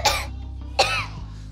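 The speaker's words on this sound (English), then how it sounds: "You think that was what was making you cough?" Two sharp coughs from a child at home, each a brief burst, close to the mic, separated by a short pause over a steady low hum.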